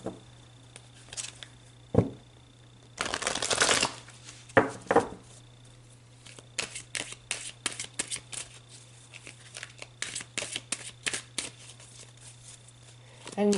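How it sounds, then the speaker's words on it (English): Tarot cards being shuffled and pulled, giving a dense burst of riffling near the start followed by scattered crisp card snaps and flicks, close and fairly quiet. "So let's pull some more cards here."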